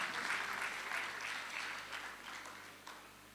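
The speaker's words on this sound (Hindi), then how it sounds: "इस बात पे एक बार ताली बजनी चाहिए।" At the Banaras Lit Fest, an audience bursts into a warm round of clapping that starts full and tapers gradually, with scattered individual claps near the end.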